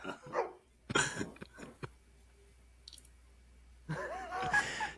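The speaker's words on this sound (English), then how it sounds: "that is a beast of a dog" A large, angry dog barking in a few sharp, loud bursts, separated by short quiet gaps, followed by a longer rough stretch of barking near the end.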